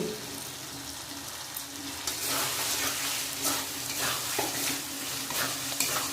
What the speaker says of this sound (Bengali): মশলার মধ্যে আর কিছুক্ষণ কষিয়ে নেবো